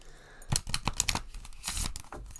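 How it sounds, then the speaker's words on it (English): Quick papery riffles and snaps of tarot cards being shuffled, coming in several short bursts close by, with no talking. "I'm reading these cards in reverse. That's why I'm shuffling"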